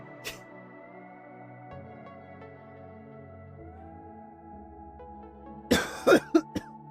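A quick burst of several dry coughs near the end, close and loud, over a steady low background hum.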